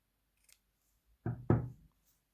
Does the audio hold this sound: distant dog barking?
no